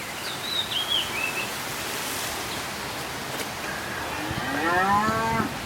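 A low mooing call from an elephant statue's sound effect, with rising harmonic tones near the end, over steady background hiss, plus a brief faint chirp early on; no talking.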